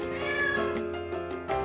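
A cat at a county animal shelter meows several times in a row, close by and fairly loud, with drawn-out tonal cries over steady room noise.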